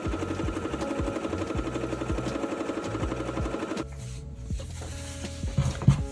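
A sewing machine set to a long basting stitch runs a seam along a dress panel, giving a steady rhythmic clatter of needle strokes that stops partway, followed by quieter handling sounds.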